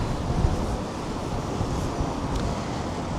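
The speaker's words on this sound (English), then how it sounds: "It gets so windy." Strong wind buffets the microphone on the Blackpool seafront as a steady, loud, low rumble with gusty swells throughout.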